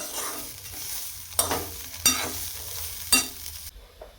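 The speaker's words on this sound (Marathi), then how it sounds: "आता आपण ह्या काढून घेऊयात आणि ह्याच्यामध्ये लगेच फोडणी घालूयात." Tempering (phodni) for dry bitter gourd stir-fry sizzles in hot oil in a pan, with a steady frying hiss broken by three sharp crackling bursts as ingredients hit the oil.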